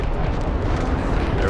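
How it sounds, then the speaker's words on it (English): A loud, dense rumbling blast from an explosion in the Starfield video game, sustained and broad across the whole moment with no pauses, up close and heavy, with spoken voices mixed in. "he's just gonna explode, so. Get a nice good close-up from exploding."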